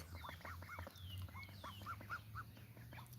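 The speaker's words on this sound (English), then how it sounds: "So I have 2 female ducks and 1 male duck" Three ducks, two females and one male, quack in a series of short, nasal calls at close range, with occasional chirping birds in the background and no talking.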